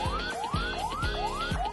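A clinic's ambulance siren wails in rapid rising sweeps, repeating about four times in a steady rhythm. It is loud and close, with no talking.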